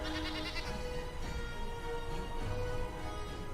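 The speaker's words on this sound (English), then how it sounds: "And yes, we will listen to the goat." A goat in Dragon Age Origins gives a short, bright bleat amid busy combat noise and game sounds, fairly close and clear.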